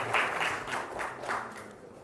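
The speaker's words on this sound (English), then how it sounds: "I think you guys can be a little more generous in your applause." Applause at a business summit, a soft, somewhat distant patter of clapping that swells briefly and then tapers off over about two seconds, with no voices over it.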